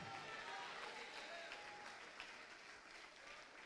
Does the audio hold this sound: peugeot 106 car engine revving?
no